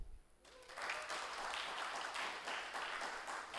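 Audience applause at a youth-focused innovative financing event, a sustained wash of many hands clapping that swells in after a short quiet start and holds steady and fairly full throughout.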